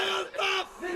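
A crowd shouts a slogan in unison, one brief loud collective cry rising and falling, close and full at a poetry gathering.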